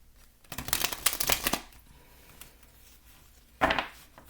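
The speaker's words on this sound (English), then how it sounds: "One more and then we'll hand shuffle." A deck of cards is hand shuffled in two bursts of brisk riffling and flicking, a busy second-long flurry followed after a pause by a shorter one, close and moderately loud.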